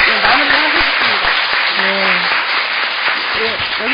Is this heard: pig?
no